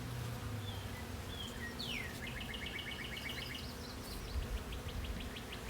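Honey bees at a hive during a queen-cell check on a split, a faint continuous low hum with a few bird chirps layered over it.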